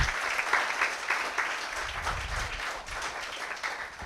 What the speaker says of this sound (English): a big round of applause to our Ekam management team for putting this event